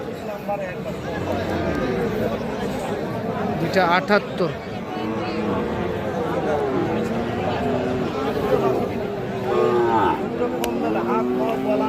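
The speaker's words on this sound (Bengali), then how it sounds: "দুইটাই কিন্তু সাইওয়াল জাতের বকনা বাছুর" Sahiwal heifer calves moo repeatedly in drawn-out calls over steady crowd chatter and voices at a busy livestock market.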